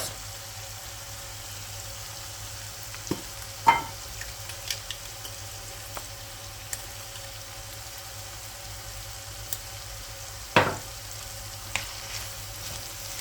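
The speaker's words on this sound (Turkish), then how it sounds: "Tekrar şöyle bir hepsini karıştırıyoruz, soteliyoruz" Chicken filling seasoned with paprika, black pepper and salt being stirred and sautéed in a pan, giving a quiet steady sizzle broken by a few sharp scrapes and clinks of the spoon against the pan.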